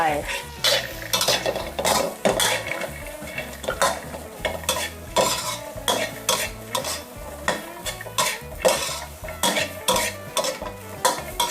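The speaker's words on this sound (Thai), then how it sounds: "ดี๋ยวเราจะคั่วให้เขาสุกนะคะ ใช้ไฟอ่อนนะคะค่อยๆคั่วไป" Garlic and shallots stir-roasted slowly over low heat in a pan, heard as rhythmic scraping and clinking of a utensil against metal over a light sizzle, repeating steadily and close, with no talking.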